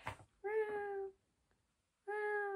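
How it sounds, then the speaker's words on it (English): Two long, clear cat meows separated by a pause, fairly close and loud, with no talking. "there's a cat just incessantly meowing"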